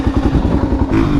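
A Suzuki DRZ 400 single-cylinder motorcycle fitted with an MRD Pro Comp exhaust revs close by, its loud, choppy thumping exhaust pulses rising briefly in pitch.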